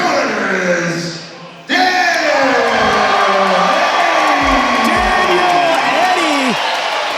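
A crowd at a live amateur exhibition fight event in Pittsburgh cheers, whoops and shouts after the judges' decision, loud and sustained following a brief quieter lull, with voices bellowing over the roar.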